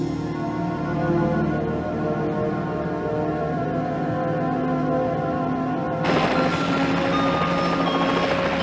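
Helicopter flying off the stern of a ship, a steady, loud rotor and engine drone with layered tonal hum that swells brighter and fuller toward the end, no talk.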